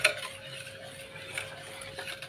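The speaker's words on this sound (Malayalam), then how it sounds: "ഇളക്കി യോജിപ്പിക്കാം." A spoon stirs sweetened aval milk, made with flattened rice, in a pot, giving soft, close scraping and light clinks against the metal over a low steady background, with no talking.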